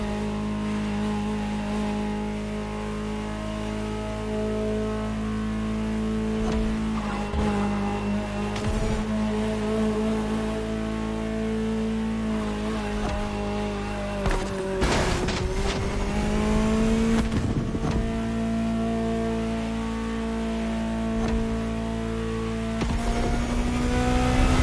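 A Ferrari supercar in The Crew Motorfest racing game roars with a loud sustained engine drone, revs rising and falling, with brief tire and shifting transients along the way.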